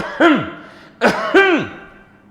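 A person clears their throat with a few short, voiced "ahem"-like bursts, close up and otherwise quiet.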